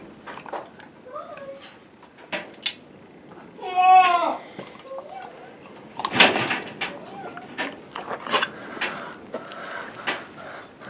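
A goat, just given a copper bolus, lets out a few scattered wavering bleats, one of them louder and longer. The bleats mix with rustling, clattering handling noises and occasional nearby talk.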